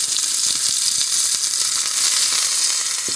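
Deer meat sizzles in canola oil in a pan, a steady bright frying hiss with small irregular pops and crackles, close and continuous without any talk.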